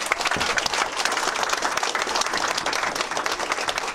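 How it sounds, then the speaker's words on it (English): A crowd at a political event applauds a New Jersey 9/11 first responder, thick continuous clapping from many hands, loud and even throughout. "Can we give him a round of applause, please?"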